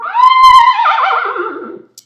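A horse neighs loudly and close by in one long whinny. The call starts high and clear, then wavers and trembles as it falls in pitch, and a quiet pause follows.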